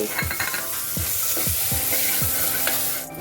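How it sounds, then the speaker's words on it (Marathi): Malvani masala paste sizzling in hot tempering oil, stirred with a spoon that scrapes the pan in several distinct strokes over a steady, close frying hiss. "फोडणीत मी जरा वाटण परतून घेतलंय नीट भाजासाठी"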